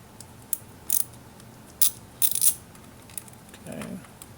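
Ratchet loosening a spark plug on a 2017 Mercedes-Benz SLC300 engine, sounding as several short, sharp clicking bursts spaced irregularly, close and fairly quiet, with a faint low shuffle near the end.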